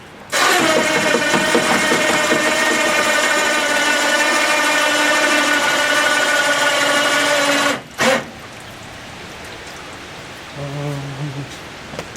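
A Tohatsu 8 HP outboard kicker motor runs loud and steady with a buzzing, even drone for about eight seconds, then cuts off abruptly, followed by a brief faint mechanical sound near the end.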